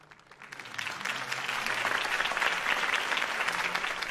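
Sustained video-game crowd applause after a political campaign speech, dense clapping that swells after a soft start and holds steady and loud throughout.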